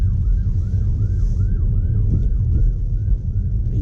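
A wailing ambulance siren sweeps up and down in a steady repeating yelp, heard from inside a Tesla Model 3 Performance over a low road rumble, moderately near and continuous.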